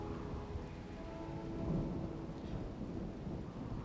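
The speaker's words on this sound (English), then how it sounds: "Rainy thunderstorm is still going on." Rainy thunderstorm in RimWorld, soft steady rainfall with a low rumble of thunder swelling midway, quiet and continuous with no talking.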